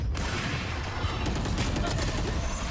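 Gunfire crackles through a Valorant esports grand final match in dense, rapid, overlapping shots that stay loud and continuous across the whole moment.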